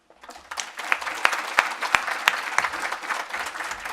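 An audience at a talk on internet freedom bursts into warm applause for a speaker, a dense steady clapping that swells quickly and holds for a few seconds before easing slightly.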